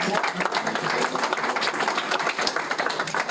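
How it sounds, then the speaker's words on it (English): Crowd applause at the season launch of a Guam island conservation corps, welcoming new members with a brief, dense burst of many hands clapping, loud and continuous. "Let's give them a round of applause."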